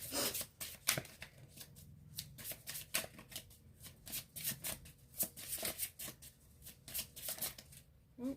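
Love oracle cards being shuffled by hand, a quiet close run of rapid riffling flutters and soft slaps repeating steadily with brief pauses between bursts.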